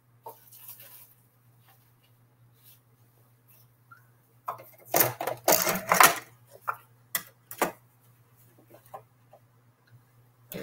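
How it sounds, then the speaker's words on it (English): A die cut machine cutting a small piece of basic white cardstock: a dense cluster of grinding, clicking mechanical bursts for about a second and a half, followed by a few sharper clicks, over a steady low hum in a quiet room. "before I put the die cut machine away, why don't I cut a little piece of basic white"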